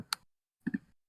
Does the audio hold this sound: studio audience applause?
no